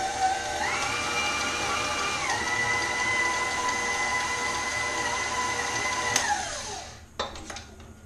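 A stand mixer works pizza dough with a dough hook: a steady whirring motor drone with tonal whine shifting in pitch, running for about six seconds before winding down and stopping, followed by a few faint clunks.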